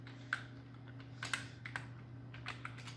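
Quick bursts of keystrokes on a Power Mac G5 keyboard as a search is entered, irregular clustered taps close to the microphone, fairly quiet over a steady electrical hum.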